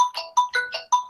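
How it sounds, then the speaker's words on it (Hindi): Mobile phone ringtone going off during an online class, a bright electronic melody of short, rapid tones repeating in quick bursts, loud and close, with no talking. "भाई फोन म्यूट करके रखेंगे यार"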